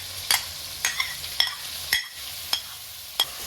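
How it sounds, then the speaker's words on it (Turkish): Onions and meat sauté in a pan for a mixed vegetable stew, a low steady sizzle broken by about six sharp scraping stirs at uneven intervals, close and clear. "soğanlarımız ve etlerimiz neredeyse kavruluyor"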